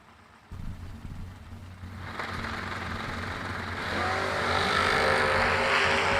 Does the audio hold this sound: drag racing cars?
yes